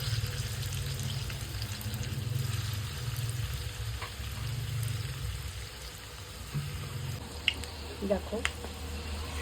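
Gulab jamun balls fry in hot oil, a soft steady sizzle with a few light clinks and stirring touches near the end, fairly quiet and close.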